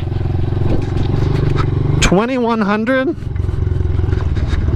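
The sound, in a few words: Honda CRF 110 dirt bike engine while riding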